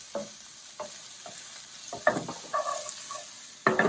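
Thinly sliced onions sizzle softly in a frying pan while a utensil stirs them in a few scraping bursts, with quiet crackle between strokes and close-up sound.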